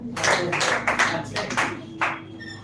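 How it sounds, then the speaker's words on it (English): An audience claps for a student speaker at a school English speaking event, with a few uneven bursts of hand claps in a room, fairly close and loud, fading toward the end. "Clap for her."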